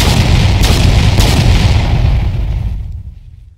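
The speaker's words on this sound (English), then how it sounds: "Napoleon's Grand Battery fires." Artillery cannon fire of Napoleon's Grand Battery at Waterloo, a heavy rolling barrage of deep booms that rumbles loudly and then fades into silence.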